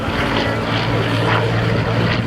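A Hawker Hurricane propeller aircraft flies at the Shoreham air show, its engine a loud, steady droning roar close by throughout the short stretch.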